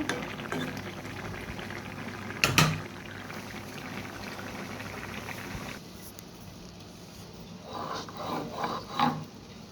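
Curry with coriander leaves simmering to a boil in a pot, a steady low bubbling hiss throughout, broken by a single sharp knock early on and a few soft bumps near the end, with no talking.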